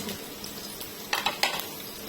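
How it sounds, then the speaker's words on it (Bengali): Bay leaves, chopped onion and green chili stir-fried in hot oil, a soft sizzle broken by a few quick clinks and scrapes of a spoon against the pan. "নেড়ে চেড়ে ভেজে নিচ্ছি"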